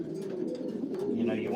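Racing pigeons coo steadily up close in a loft, a low continuous burbling chorus with occasional louder calls and some faint voices mixed in.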